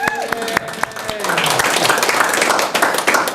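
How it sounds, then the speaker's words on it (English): A comedy competition audience claps for the contestants, a few sharp early claps growing into dense, loud applause that fills the room. "that is what we would call a cheap applause"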